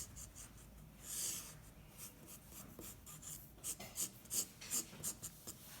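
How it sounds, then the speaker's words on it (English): Marker pen strokes on paper during a quick abstract floral drawing, faint scratchy rubbing in short uneven bursts, quicker and more rhythmic toward the end. "I'm just going right ahead and doing it with my marker."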